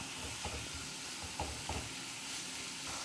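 Green chillies and ginger-garlic paste stirred in a hot pan for a Malabar bird's nest snack, giving a steady soft sizzle with a few scraping spatula strokes, close and continuous.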